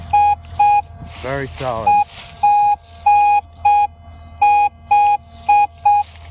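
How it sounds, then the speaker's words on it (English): A Minelab Xterra 305 metal detector gives a run of clear, loud, evenly spaced beeping tones during sweeps outdoors, with a scraping rustle midway and a short spoken remark over the tones. "that is the best sound my machine's ever made."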